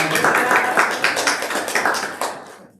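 A small group claps for Elaine's birthday during a gathering, quick overlapping handclaps that stay close and fairly loud before tapering off and stopping near the end.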